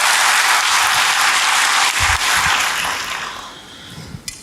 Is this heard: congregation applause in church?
yes